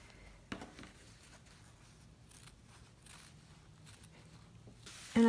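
Scissors snip faintly through fabric while trimming seam allowances to a scant quarter inch around a garment neckline, quiet scattered cuts with a sharper snip near the start and a louder burst at the end.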